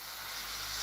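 Airbrush laying a light misty coat of paint onto a scale model, a steady, soft broadband hiss that holds evenly and swells slightly toward the end, with no talk.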